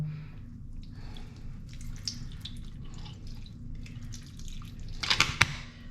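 Water drains and trickles from a freshly watered potted plant in a hotel room, faint dripping and gurgling over a low hum, with a few louder drips near the end.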